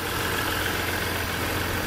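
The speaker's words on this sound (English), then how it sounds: "We do have a diesel engine sound" Steady, even idle of a 2015 Jeep Grand Cherokee Limited with the EcoDiesel diesel engine, a continuous low rumble with a faint higher whine, held at constant loudness with no talk over it.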